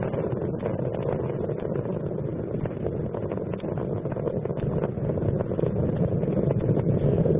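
Space Shuttle Columbia's three liquid-fuel main engines thundering during launch from Kennedy Space Center, a continuous dense, muffled roar with no voices.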